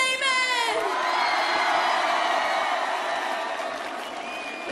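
A concert crowd roars with cheers, whoops and clapping, dense and sustained throughout, slowly easing toward the end.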